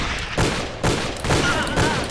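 Gunfire in the PC video game Call of Juarez, four loud shots spaced roughly half a second apart, each sharp crack trailing into a short echo.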